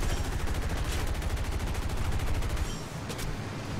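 Machine gun fire in a World War I air combat video game: a loud, rapid and steady stream of shots for nearly three seconds that then cuts off, leaving a duller rumble.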